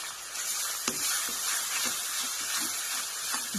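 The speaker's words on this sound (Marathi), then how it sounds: "चला आता हिरवी मिरची आणि लसण टाकून घेतल्या बरं का" Green chilies and garlic sizzle in hot oil in a kadhai, a steady soft hiss with occasional faint stirring taps, heard close and alone.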